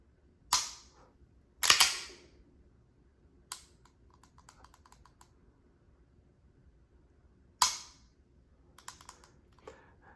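A Prodigy DS pistol is dry-fired in a quiet room. Several sharp, close trigger and striker snaps arrive a second or more apart, with faint clicking and small mechanical rattles of the action between them.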